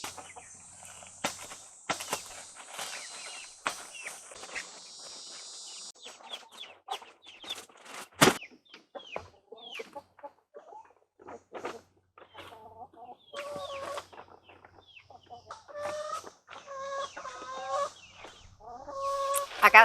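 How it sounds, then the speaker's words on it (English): Chickens cluck and murmur nearby at a coop during clean-out in a busy, irregular stream, with a sharp knock partway through and louder clucking toward the end. "I got some chickens that's wanting to go in there"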